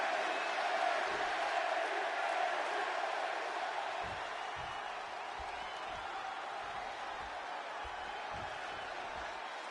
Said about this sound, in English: just listen to this crowd here in Chicago. They are feeling the heat indeed.